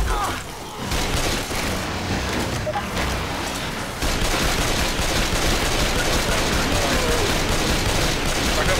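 Dense, continuous gunfire in the zombie shooter Left 4 Dead 2, with shotgun blasts among it. The shots overlap in a loud, near barrage with voices mixed in.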